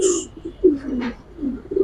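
Close pigeon cooing from Giribaz and racer birds comes in several throaty, rising-and-falling bursts, with a short high chirp at the start and faint rustling between calls.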